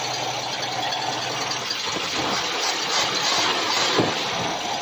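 A 1965 Ford Falcon engine idles freshly after a carburetor rebuild, holding a steady, even, close-up rumble with a broad hiss and no voices throughout.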